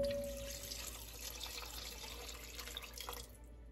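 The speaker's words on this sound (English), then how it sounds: "I'm going to add a little bit more water." Water runs steadily from a kitchen tap into a pot of noodle soup with roasted vegetables, a continuous close splashing pour that lasts throughout and eases off at the very end.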